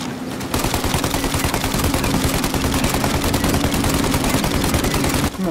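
Sustained, loud gunfire in Mafia Definitive Edition: a dense, rapid stream of shots runs almost without break for about five seconds, then stops abruptly.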